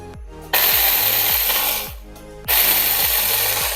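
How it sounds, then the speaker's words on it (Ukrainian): A freshly assembled chainsaw running loudly with its chain fitted, a steady, harsh engine roar with a pulsing low rhythm that dips briefly in the middle before surging back to full volume. "Працює трохи гучно, зразу ж цепка просіла трошки"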